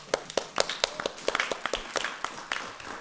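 Scattered hand clapping from a small group at a Boston school committee meeting: a string of sharp, uneven claps at moderate volume over a quiet room.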